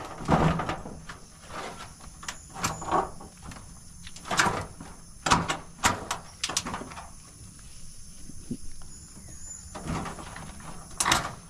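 Several sharp knocks and clatters of a door being handled, scattered through an otherwise quiet room, with brief bangs at irregular intervals.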